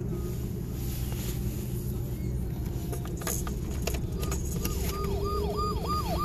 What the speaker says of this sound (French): Elle a la même sirène.